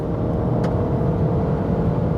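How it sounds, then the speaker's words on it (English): A 2023 Alfa Romeo Giulia's engine drones steadily from inside the cabin, a continuous low rumble with road noise as the car accelerates hard from 100 km/h. "are you guys ready to accelerate? From 100 kilometers an hour, let's go."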